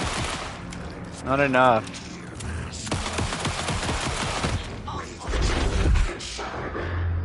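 Rapid bursts of gunfire crack repeatedly in clusters, loud and close, with a yell in between and a person speaking briefly.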